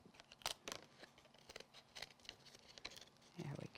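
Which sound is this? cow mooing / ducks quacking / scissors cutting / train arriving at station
scissors cutting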